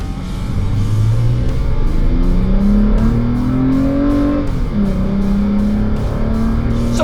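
A Toyota Tacoma TRD fitted with a cold air intake accelerates hard through a 0-60 run, its engine roaring loud and steady with rising pitch through the gear changes.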